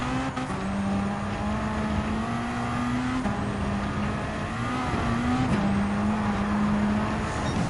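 Racing car engine in Gran Turismo 7 (Spec II update) drones steadily throughout, holding a high rev tone with slight pitch rises and dips as the car brakes and corners, loud and continuous with no talk.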